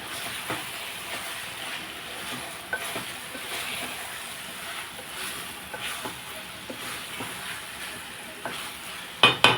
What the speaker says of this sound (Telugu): ఇట్లా వాటర్ వేసేస్తాను